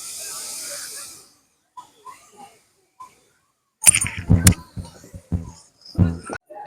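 Water sprinkled onto roasting semolina in a pan for upma gives a short, close hiss of sizzling at the start, then small clicks and a person talking.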